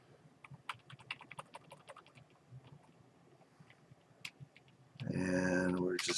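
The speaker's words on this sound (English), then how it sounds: "we'll just type in the command WMIC" Command being typed on a computer keyboard: a quick irregular run of close, crisp keystrokes, then a pause and a few more taps before a voice starts speaking loudly at the end.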